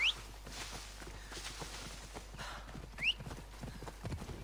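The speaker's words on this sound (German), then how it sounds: "Vielleicht können wir es mit dem Pferd beschleunigen" Horse hooves clip-clopping at a steady pace in the video game Assassin's Creed Odyssey, moderately loud and continuous, with two brief high whistling game sounds on top and no speech.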